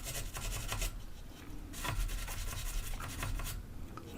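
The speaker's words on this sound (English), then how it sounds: "I'll clean these out with some deoxit and one of these interdental picks" Valve socket pins on a 1949 Philco 860 radio are scrubbed with an interdental pick and DeoxIT, a close, quiet scratchy rubbing that comes in repeated short strokes.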